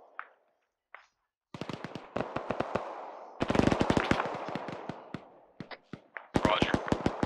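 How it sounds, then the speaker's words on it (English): A heavy machine gun in ArmA 3 rattles out rapid, close, loud bursts of sharp repeated reports, separated by short pauses and a few single shots, with no voices. "I got a heavy machine gun up on the ridge to the southeast"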